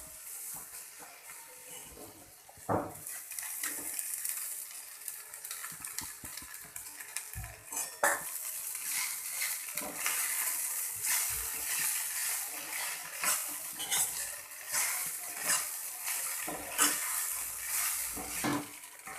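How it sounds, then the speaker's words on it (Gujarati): Poha being stirred and mixed in a pan on the stove, a steady scraping of a spoon against metal with soft sizzling and occasional clinks, close and fairly quiet throughout. "એને સરસ રીતે મિક્સ કરી લઈશું"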